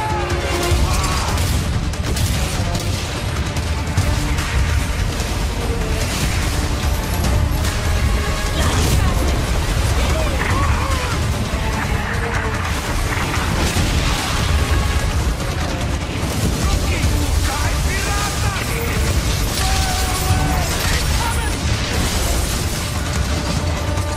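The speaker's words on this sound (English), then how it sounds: "Cannons on you. You brace for fire, absorbing the first blow." Repeated booming cannon blasts and crashing impacts from a naval battle in Assassin's Creed Odyssey, dense and continuous, with clattering mechanical effects layered in.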